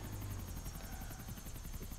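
A helicopter in the video game GTA IV: a steady, dense rotor drone with a fast chopping pulse, loud and continuous throughout, with no voices.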